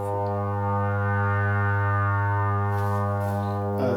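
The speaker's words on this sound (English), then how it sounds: "Bring in a bit of reverb." A sustained buzzy tone from an AE Modular synthesizer with a rich harmonic drone, held steadily with a reverberant wash, ending in a brief change near the end.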